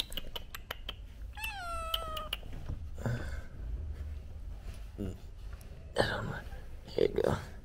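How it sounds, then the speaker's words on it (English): A cat meows several times close by, a drawn-out rising-falling cry among short clicks and rustling, with faint quiet speech and handling noise later. "Like I told you, I was bringing a cat."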